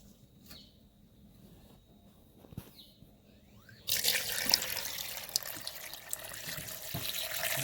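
Water from a tap pours onto coconut pieces in a blender in a home kitchen, a loud steady splashing rush starting midway after quieter kitchen sounds and a few light clinks.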